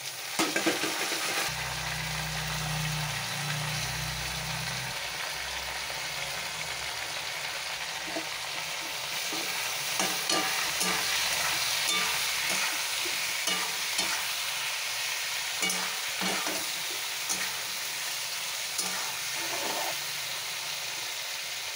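Prawns and green chillies frying in a pan make a soft, continuous sizzle with occasional stirring clicks; a low hum sits underneath at the start.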